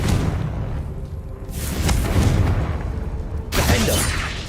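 Booming spell blasts from the Confringo fire spell in the Hogwarts Legacy video game, a loud, dense burst rumbling through the first second, then a second swell near the middle and a sharp crackling blast near the end.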